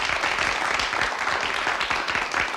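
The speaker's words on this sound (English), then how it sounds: "Please, Katie, could we play applause for Lisa Petrillo?" A canned applause sound effect plays on a Florida TV show: steady, dense clapping for a couple of seconds, moderately quiet and without voices.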